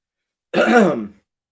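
A single harsh throat clearing from a person with a lingering dry cough, close and fairly loud, lasting under a second and followed by silence.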